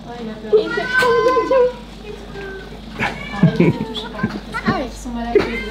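A kitten or young cat meows in a few short, high calls at close range, mixed with excited voices of people talking and playing with it indoors.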